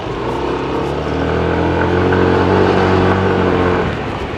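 A Yamaha NMAX scooter in sports mode accelerates hard through an overtake, its engine holding a loud, close, steady drone that swells slightly mid-way and eases off at the end.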